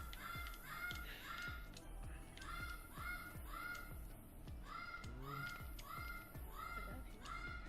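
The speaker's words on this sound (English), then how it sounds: "The bird's going crazy." A pet bird squawks loudly and repeatedly in harsh, crow-like caws at a quick, steady rhythm, close by, over faint background voices.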